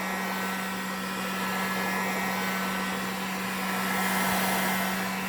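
A heat gun blows continuously while heating a Corsa D instrument cluster fascia, a steady whooshing hiss with a fixed electric whine, swelling slightly near the end.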